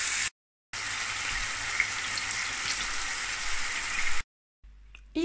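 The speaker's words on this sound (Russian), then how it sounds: "Разогреваем масло и выкладываем, формируя такие колбаски, обжариваем с обоих сторон до готовности." Cevapcici meat sausages fry in hot oil, a dense, even, fairly loud hiss and crackle that runs steadily between brief cuts to silence, with no talking.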